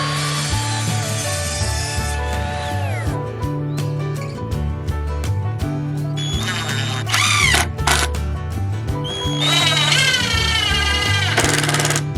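A loud power drill whines and bites into the metal frame of a shipping container house, its pitch rising and falling in repeated bursts with short pauses between runs.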